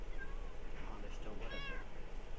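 A cat meows in Minecraft, a short high mewing call over a steady noisy game background, with other faint game sounds around it.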